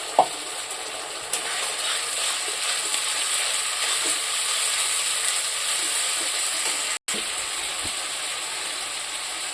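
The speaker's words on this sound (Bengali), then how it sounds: "সুন্দর করে মশলাটাকে কষিয়ে নেব" Spice paste with onion frying in a pan for a poultry curry, a steady bright sizzle holding throughout, with a few stirring knocks and one brief dropout near the end.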